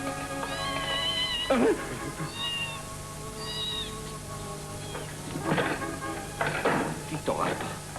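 A cat meows several times in short, rising calls, mixed with scattered human voices and background noise, including a steady hiss like rain.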